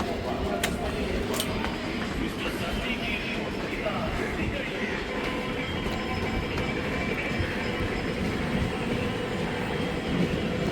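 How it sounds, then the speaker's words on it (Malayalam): A train rumbles continuously at Aluva railway station, a dense, loud clatter of wheels and carriages with a few sharp metallic squeals. Voices can be heard in the background. "Aluva railway station."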